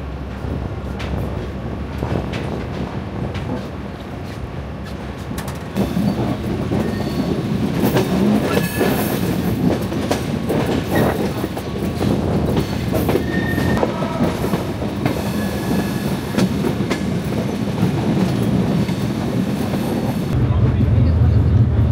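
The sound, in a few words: Panchagarh Express train moving on rails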